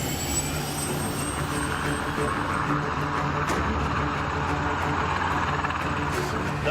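A civil security helicopter takes off with a steady, loud engine roar, a high whine above it and a constant rotor drone; no talking.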